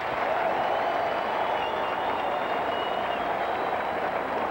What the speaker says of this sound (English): Round of applause for Dwight Gooden as he comes up now with 2 out